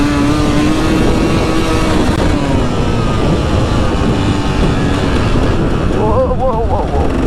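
A dirt bike runs on a dirt park flat track with a loud, continuous engine drone that rises and falls in pitch, with a rider talking over it throughout.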